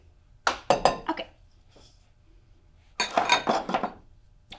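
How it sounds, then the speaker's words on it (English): Spaghetti squash with cilantro pesto is stirred in a bowl, utensil scraping and clinking against the bowl in two bursts of several quick, close strokes separated by a pause. "we'll just give this a good stir until it's all nice and combined"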